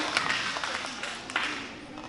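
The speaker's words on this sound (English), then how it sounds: "Give Jaylee a round of applause for the right answer." Scattered applause from a classroom audience at a school reading kickoff event, a short steady burst of clapping mixed with voices.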